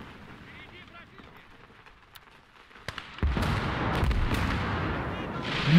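Heavy grenade blasts and rattling gunfire from the WWII strategy game Call to Arms: Gates of Hell, quiet at first, then a dense, loud barrage of booms and shots from about three seconds on.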